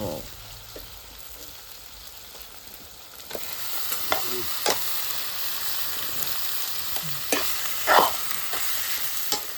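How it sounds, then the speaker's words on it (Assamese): Meat frying and being stirred in a pan in a home kitchen, after tomatoes and onions have been fried and salt added: a steady loud sizzle with repeated scraping stir strokes that grow busier partway through. "এয়া মাংসটো মই ভাজি আছোঁ"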